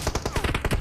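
Rapid automatic gunfire from a PUBG Mobile match: a quick string of about eight loud, evenly spaced shots laid down as cover fire, close and punchy in under a second.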